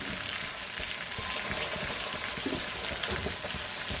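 A pork chop with apple and mushrooms frying in a pan, a dense, steady sizzle with crackling spatter, close and continuous from start to finish.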